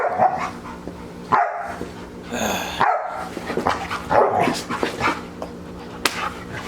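Dogs bark and yip in repeated sharp bursts close by, with some whimpering between them, and no one talks over them.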